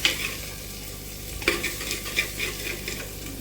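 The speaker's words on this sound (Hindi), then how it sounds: "अदरक लहसुन के पेस्ट को भी हम 1-2 मिनट के लिए पकाएंगे।" Ginger garlic paste fries in a clay pot on a stove with a constant sizzle, while a spoon stirs in regular clinking strokes, close up and without speech.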